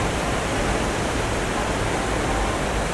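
Waterfall pouring over a river spillway, a loud, steady broadband roar of rushing water with no breaks, close and continuous throughout.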